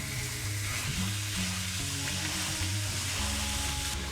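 About 200 g of minced meat for kefta frying in a pan, a constant crackling sizzle that runs the whole way through with some low background hum.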